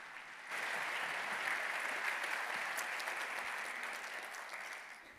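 Audience applause greeting a lecturer walking onstage at an evening science lecture, a steady wash of clapping hands that starts suddenly and holds at even strength for several seconds, tapering slightly at the end.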